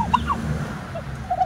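A domestic turkey gobbles in short, bright bursts over a low background rumble, a few quick calls near the start and again at the end, moderately close.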